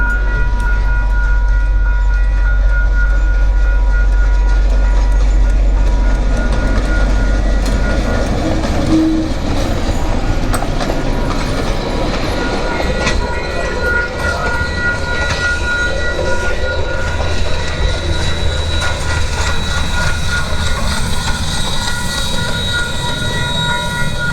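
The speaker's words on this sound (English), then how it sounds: "The train has already returned from Feilding, and we catch it now leaving Whanganui, heading home to Paikakariki." A vintage excursion train pulls away from Whanganui station in New Zealand, bound for Paikakariki, its steady rolling rumble and wheel noise continuous and fairly loud throughout, with no voices.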